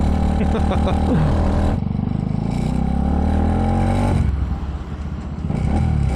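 Honda TMX motorcycles pass close by on a tight city street, their engines revving and droning loudly with rising and falling pitch, mixed with rattling clatter and other street traffic.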